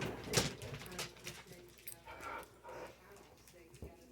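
Puppies, young dogs rescued from the South Korean meat trade, whimpering and yipping indoors in short, close, uneven bursts mixed with soft human voices.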